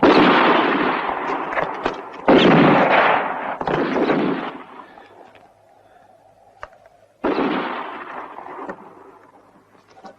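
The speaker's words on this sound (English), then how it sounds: "so keep on shooting all the time" Gunfire in a western movie shootout, with bursts of rapid, loud shots that come in several volleys separated by quieter gaps and trailing echoes.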